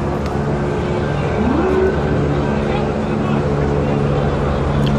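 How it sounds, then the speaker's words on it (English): Helicopters approach over a New York crime scene, a steady low mechanical drone building under crowd murmur and nearby voices. "The helicopters are coming now."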